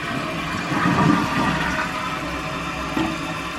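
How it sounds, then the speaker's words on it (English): A toilet with a freshly repaired Fluidmaster fill valve flushes, giving a steady rushing swirl of water that swells early and then settles into a continuous hiss of refilling. "now let me flush it and see if I've got everything together here"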